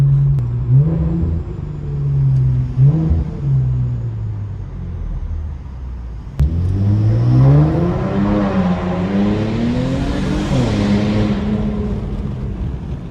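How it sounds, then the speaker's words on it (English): A loud Scion tC passes close by with a droning, rumbling exhaust note, its pitch rising and falling as it accelerates through the pass, heard from inside another car. "there was the nastiest sounding Scion TC that I've ever heard pass by"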